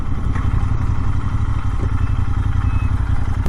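Royal Enfield Interceptor 650 engine running steadily while being ridden, a dense continuous low engine drone with light mechanical clatter, loud and close, with the engine braking during the ride.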